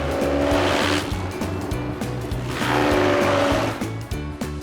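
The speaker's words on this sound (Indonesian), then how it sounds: "rumput-rumput perlu dicacah terlebih dulu pakai mesin ini" An engine-driven machine chops grass for animal feed: a loud, steady motor drone with a rapid rhythmic chugging pulse that swells and eases over several seconds, close up and with no voices.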